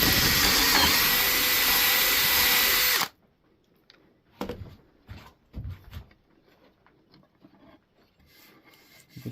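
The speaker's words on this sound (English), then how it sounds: "Take my drill." An electric drill bores a dowel hole through a wooden board held in a clamped doweling jig, a loud steady whine lasting about three seconds that stops abruptly, followed by quieter knocks and handling sounds.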